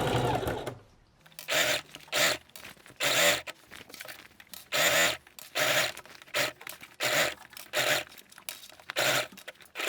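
A sewing machine stitching a denim workwear jacket, running in about nine loud, regular bursts with short pauses between them.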